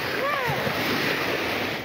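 Tsunami waves reaching the coast of Tonga after a volcanic eruption, a continuous loud roar of surf and rushing water with wind buffeting the microphone and a faint higher tone early on.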